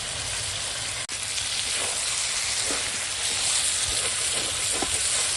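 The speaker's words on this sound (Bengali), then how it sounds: "দেখো কিভাবে কষাচ্ছি এরকম কাঠের জালে একদম কষে কষিয়ে রান্না করছি" Chicken with capsicum sautéing in a pan over a wood fire gives a steady broadband sizzle throughout, with a few faint stirring clicks and no voices.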